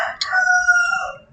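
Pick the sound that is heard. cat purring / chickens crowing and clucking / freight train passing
chickens crowing and clucking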